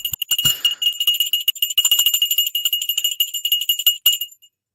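A hand bell rung to mark the stock market close on Robinhood's Q2 2025 earnings day, clanging rapidly and continuously for about four seconds, bright and close, with no talking, then stopping abruptly.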